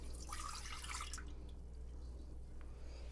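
Warm milk being poured into a bread mix for chile bacon cheese bread, a soft splashy trickle for about a second, then quieter dripping over a low steady hum.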